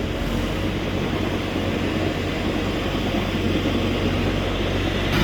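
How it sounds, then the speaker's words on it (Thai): A steady, loud engine drone with a low rumble from a combine harvester runs continuously throughout, like heavy farm machinery idling nearby, with no voices. "นี้เสียงรถเกี่ยว"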